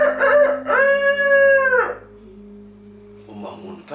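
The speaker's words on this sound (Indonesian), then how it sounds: "Di pagi hari, ayam jago di sana berkokok," A rooster crows loud and close in a long, rising-and-falling cock-a-doodle-doo, followed by softer low clucking and then a brief burst of noise at the end.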